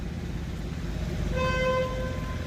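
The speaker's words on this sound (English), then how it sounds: "You will hear a lot of honking now because they're stuck in traffic here." A car horn sounds in stuck traffic on Via del Corso in Rome, one sustained honk rising out of a steady street rumble partway through.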